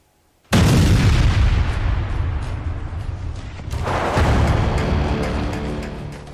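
Explosion blast in a news report on a Taliban attack in Pakistan, a sudden loud boom that rolls into a long rumbling roar, then a second surge of blast noise swelling and slowly fading.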